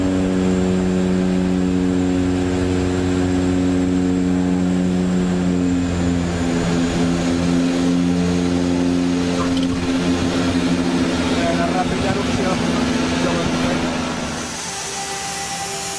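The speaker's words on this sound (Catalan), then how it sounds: "soroll dels motors, semblava més un tractor que no un avió" Airplane engines drone steadily inside the cabin on a flight to Lukla in Nepal, a loud continuous hum with a low tractor-like rumble, easing slightly near the end.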